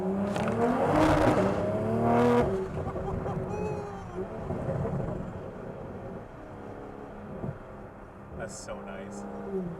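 A Toyota GR Corolla engine revving through a resonated muffler, a loud throaty rise in the first seconds that settles into a lower rumble, with people talking over it.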